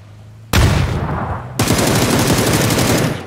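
Automatic gunfire in PUBG opens with a sudden loud burst and resumes as a longer sustained stream of rapid shots, close and dominant.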